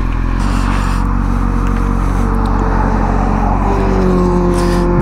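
Motorcycle engine running loud and steady at close range during a test run, its drone rising slightly in pitch toward the end as it accelerates, with no talking.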